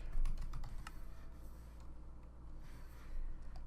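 Rapid keyboard typing, close and steady, with repeated clicks layered over a constant low hum from a computer during a Minecraft modded gameplay session.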